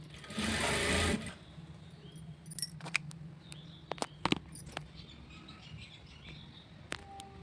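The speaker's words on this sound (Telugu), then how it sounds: "క్లాత్కి థ్రెడ్కి మధ్యలో సూది రానిచ్చుకుంటూ కుట్టుకోవాలి" A sewing machine stitches blouse cloth in a short, close burst of whirring lasting under a second, then goes quiet apart from scattered small clicks and taps of handling.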